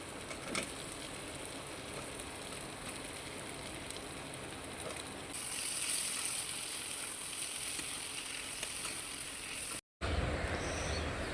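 Potatoes fry with dried fish (shutki) in a pan, giving a continuous, fairly quiet sizzle and hiss. Partway through the sizzle brightens and grows a little louder. There is a brief cut near the end, and no one talks.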